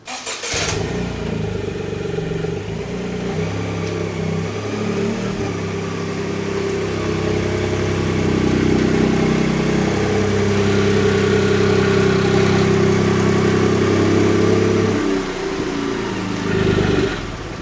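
Toyota GR Yaris engine breathing through an XFORCE catback exhaust: a close, steady idle that swells into a sustained higher rev midway, then drops back to idle with one last blip. No one speaks.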